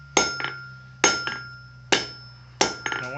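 Blacksmith hammering hot 5/16 inch steel stock to a blunt point, four sharp ringing blows at a steady pace, each followed by a lighter rebound tap on the anvil, close and loud over a low hum.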